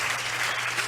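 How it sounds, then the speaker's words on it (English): Audience applause at a Formula 1 team's 2024 car launch event, a steady dense wash of clapping throughout the brief moment with no voices over it. "I think a round of applause."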